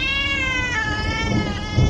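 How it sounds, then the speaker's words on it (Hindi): A cat screeches in a drawn-out, wavering caterwaul that holds close and loud for nearly two seconds, with no other sounds around it. "अचानक वो बिल्ली चिल्लाती हुई जंगल की तरफ भाग गई।"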